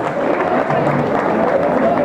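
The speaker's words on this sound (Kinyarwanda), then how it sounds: "Amashyi menshi cyane rwose." An audience at an award ceremony applauds steadily, a dense, even patter of many hands clapping at moderate loudness without pause.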